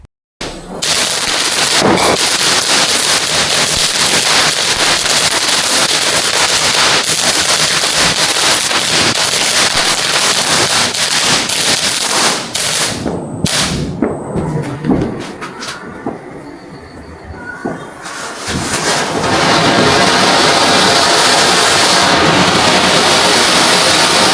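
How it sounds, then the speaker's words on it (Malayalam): Continuous loud crackling and sharp bursts from firecrackers going off nearby during Vishu celebrations in Kerala, dense and rapid, with a brief lull before the bursts resume at full intensity. "പടക്കം പൊട്ടിക്കാൻ പോവുകയാണ്"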